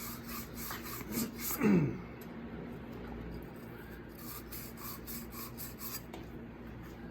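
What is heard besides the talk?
sand cloth scrubbing copper pipe clean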